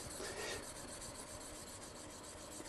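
A blade is rubbed on a diamond sharpening stone in a steady, continuous gritty rasp, close but fairly quiet, with faint repeating strokes and no talking.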